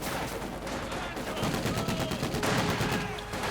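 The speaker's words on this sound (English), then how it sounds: "Panzer is now coming under sniper fire, and a lot of other fire as well." Dense bursts of gunfire and sniper shots ring out during a Company of Heroes 2 battle, rapid crackling volleys at moderate volume that continue throughout under faint game sounds.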